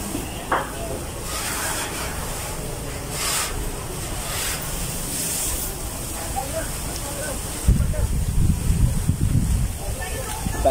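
Strong wind roars and buffets the microphone at a house fire in Calapan, Mindoro, a steady loud rushing hiss with gusts, while people talk in the background.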